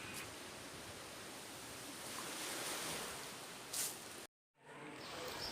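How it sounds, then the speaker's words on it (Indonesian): Ocean waves wash in a steady broadband surf roar, with a slight swell near the middle and a brief dropout toward the end. The sound is fairly quiet and there is no talk. "Bunyi ombak"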